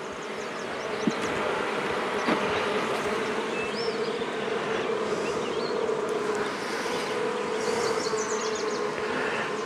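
Honey bees buzz steadily and densely during a hive inspection, a constant close drone with occasional louder individual bees passing near, and nobody speaking.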